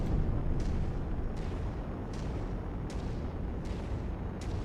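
Rounds from enemy guns strike a player's mech in MechWarrior 5, a series of about six muffled thuds and blasts spaced roughly evenly over a low rumbling battle din.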